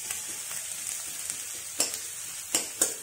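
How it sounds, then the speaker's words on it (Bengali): Two onions fry in a pan toward golden brown, giving a steady, close sizzle with a few louder stirring scrapes near the end. "পেঁয়াজগুলোকে একটু সোনালি ব্রাউন করে ভেজে নেবে"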